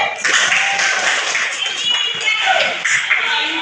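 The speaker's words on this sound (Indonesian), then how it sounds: "Tepuk tangan untuk Aidil." Students in a classroom clap for a classmate called to the front, a few seconds of brisk, uneven hand clapping with voices talking underneath.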